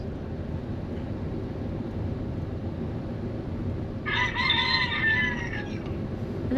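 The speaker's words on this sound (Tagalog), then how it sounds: "Manok yun eh." A rooster crows once, clear and fairly close, over a steady low background hum; no talking.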